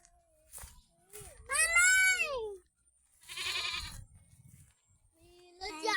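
Several loud, wavering goat bleats close by on a farm, separated by short pauses, with no talking.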